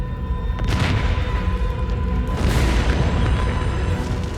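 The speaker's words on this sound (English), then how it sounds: "The vapors ignite when they come in contact with a generator." Stored fuel vapors ignite against a generator in a huge fire in England, giving a sustained deep roaring boom with a fresh surge partway through, loud and close with no talk.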